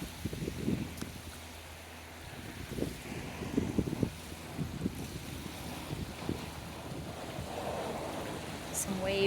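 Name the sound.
waves lapping on the Indian River shore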